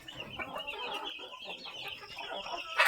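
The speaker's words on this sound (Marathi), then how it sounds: "चांगली गावरान कोंबडी आहे आपली आणि अंडी चांगले भरपूर देत असतात." Free-range country hens cluck softly and repeatedly in a shelter during a rainy night, a faint, steady chatter of short calls.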